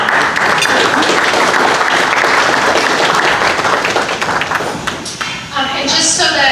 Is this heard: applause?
yes